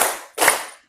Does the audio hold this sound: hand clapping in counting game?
yes